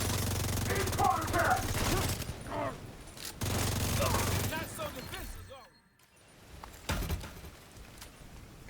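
Minigun fire in a video game, sounding as long continuous buzzing bursts that start and stop a few times, separated by quieter gaps and scattered effects.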